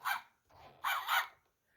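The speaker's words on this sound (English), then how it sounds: "Bandit barks nervously." A dog in a Jonny Quest interactive button sound book gives a few quick nervous barks in two close bursts, loud and clear with no other sound.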